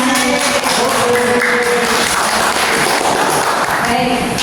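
Loud, continuous applause from teachers at a class-culture training session, a dense clapping roar with some voices and tonal sounds mixed in throughout.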